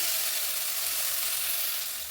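Long-cut potato strips fry with black cumin seeds in hot oil, giving a close, steady, even sizzle with no pauses and no voices.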